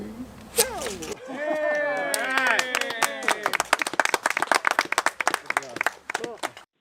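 Several people on a video call clap together, a scattered run of sharp, close claps that starts after a voice speaks and continues unevenly for a few seconds.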